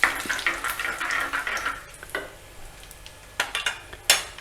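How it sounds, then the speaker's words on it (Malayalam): Dried red chillies and curry leaves stirred in a pan for a Kerala-style tomato curry, with a steady frying sizzle, scraping strokes early on, then quieter sizzle broken by a few sharp utensil clinks near the end. "രണ്ട് ഉണക്കമുളക് മുറിച്ചത് കുറച്ച് കരിവേപ്പില ഇനി നമുക്കിതൊന്ന് ഇളക്കി കൊടുക്കാം"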